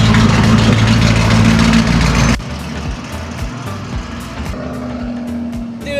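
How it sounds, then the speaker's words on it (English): A Lamborghini Urus engine and exhaust rumble loudly and heavily, then drop abruptly to a lower idle burble with faint clicks and knocks. "It's got a gnarly exhaust."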